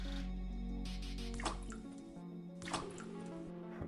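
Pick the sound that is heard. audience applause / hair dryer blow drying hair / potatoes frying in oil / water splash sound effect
water splash sound effect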